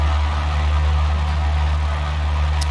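A small propeller plane engine in Flight Simulator X hums at a steady idle-like drone, low and continuous with a faint buzzing pulse, and no other sounds.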